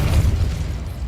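Spell impact in the Hogwarts Legacy video game, a single low, rumbling boom that decays over about a second, close and heavy.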